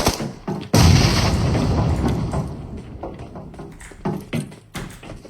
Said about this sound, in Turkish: Ya sen benim burada olduğumu ne biliyorsun da bomba atıyorsun ya.